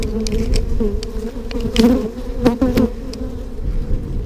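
Honeybees buzz thickly around an open hive during an early-season inspection, a loud, close and unbroken drone with a few brief knocks from handling frames and tools.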